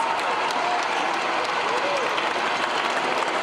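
A crowd at a Los Angeles Lakers conference championship celebration gives steady, dense applause throughout, mixed with cheering and a speaking voice.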